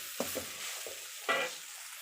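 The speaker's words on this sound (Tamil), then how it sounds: "சாதம் போட்டு இந்த காய்கறியும் சாதமும் நல்லா மிக்ஸ் ஆகிற மாதிரி நல்லா இப்படி கலரி விட்டுக்கோங்க" Cooked rice and vegetables for egg fried rice are stirred in a hot pan, a few quick scraping strokes over a faint sizzle, close and brief.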